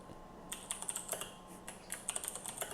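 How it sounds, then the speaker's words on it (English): Typing on a computer keyboard, quiet but close: quick irregular bursts of key clicks with brief pauses between them, and no one talking. "then goes back down to typing"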